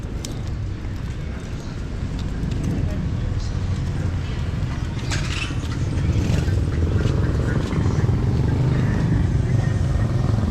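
Riding a motorcycle out of a churchyard toward home, the engine drones in a steady low rumble that swells slightly over time, with wind buffeting and someone talking over the noise.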